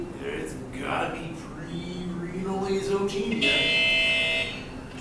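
A buzzer sounds in a classroom as time runs out, a steady tone rising near the end, with people talking over and around it.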